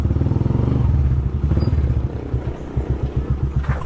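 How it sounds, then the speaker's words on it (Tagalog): A motorcycle engine warms up at idle, close by, with a loud, rapid, chugging pulse that dips and steadies, then settles into a rhythmic throb. "So painitin ko lang yung makina niya nang makalabas na tayo."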